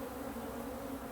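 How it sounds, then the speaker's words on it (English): A thick, steady hum of many honeybees shaken loose from a brood box frame, close and continuous. "I'm just shaking the bees there."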